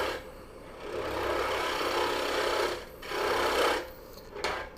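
A wood gouge cuts into a spinning blank on a lathe while turning a three-sided bowl, giving a steady rasping scrape in long passes with brief pauses between them, close and fairly loud.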